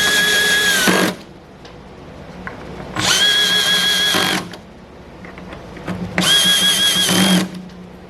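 Power tool gun driving aluminum and stainless steel fasteners while assembling an anchor locker mount: three loud, close whirring bursts of about a second each, separated by short quiet pauses, with no talking.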